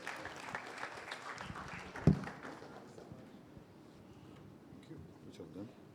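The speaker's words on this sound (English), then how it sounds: "A round of applause for him, please." Audience applause at an official report launch by a national statistics service, a steady moderate crowd clapping that fades gradually over six seconds, with a brief sharp knock near the start.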